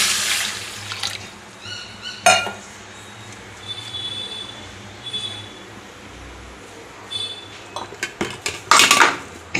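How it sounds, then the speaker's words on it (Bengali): Water splashes and pours into a metal wok for steaming jackfruit, with a few clanks of cookware at the start and a flurry of louder clatter near the end. "কড়াইয়ে জল দিয়ে দিলাম"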